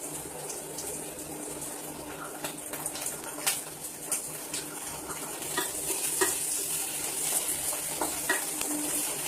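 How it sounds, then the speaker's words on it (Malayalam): Gobi manchurian ingredients sauté in a pan, giving a continuous bright sizzle with scattered crackles and stirring scrapes throughout, close and steady with no talking. "ഇതെല്ലാം കൂടി നമുക്കൊന്ന് വഴറ്റി കൊടുക്കാം"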